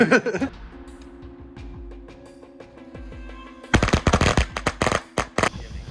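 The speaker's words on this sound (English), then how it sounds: "the biggest reel you could light off with firecrackers" A reel of firecrackers goes off in a dense, rapid crackling burst, loud and close, following a quieter stretch of scattered pops over a steady low hum.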